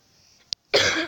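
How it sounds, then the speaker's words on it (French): After a tiny click, a single short, close cough bursts out, loud and harsh. "je tousse. Je tousse."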